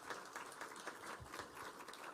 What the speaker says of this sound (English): Let's clap for her as she comes.